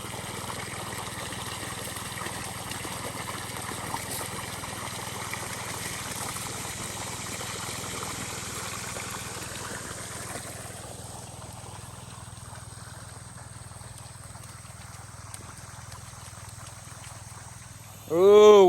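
An engine-driven water pump draws water from a bayou with a steady, droning mechanical hum and broadband wash that eases slightly midway, ending in a brief loud burst.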